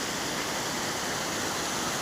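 Jogini waterfall near Manali, rushing water close by as a loud, steady broadband roar with no breaks.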